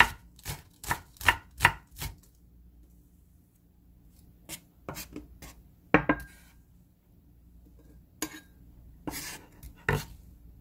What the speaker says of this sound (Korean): 총총총총 썰어 주세요.